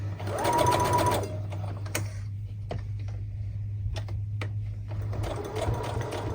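A sewing machine stitches thick terry cloth for a soap pouch in short bursts, a fast close whirring drone at the start and end, with soft clicks and handling in between.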